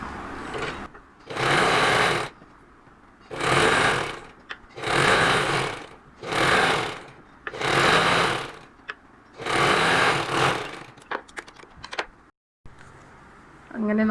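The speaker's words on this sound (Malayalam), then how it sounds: "ഈ തുണ്ട് ഇങ്ങനെ പതുക്കി തയ്ക്കുക." A sewing machine stitches a saree blouse in repeated loud bursts of whirring, each lasting about a second with short pauses between, and a voice is heard briefly near the end.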